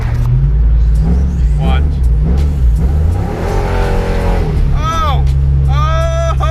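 A cammed 5.3-liter V8 roars loud and close, holding steady low harmonics with rising rev sweeps as it drops into third gear; a voice speaks briefly over the engine.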